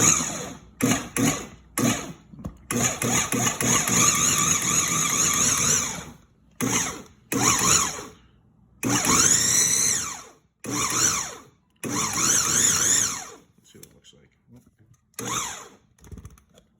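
A food processor pulses pie crust dough with butter in loud, close motor bursts of varying length, some rapid and short, others held for a second or more, separated by brief silences.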